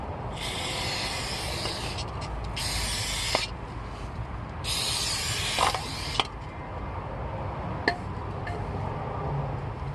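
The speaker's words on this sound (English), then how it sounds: "I'm going to spray a little bit of brake cleaner on the surface of the pressure plate as well" Several short bursts of brake cleaner spray hissing onto a clutch pressure plate, separated by pauses, with faint clicks and handling noises in between.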